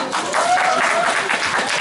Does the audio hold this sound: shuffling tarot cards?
no